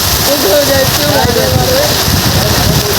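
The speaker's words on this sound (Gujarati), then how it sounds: "ફૂલ વરસાદ ચાલુ ને અમે બે જણા હલવાઈ નીકળે ઉભા છે" Heavy rain pours in a dense, constant hiss, loud and close, while a voice speaks over it.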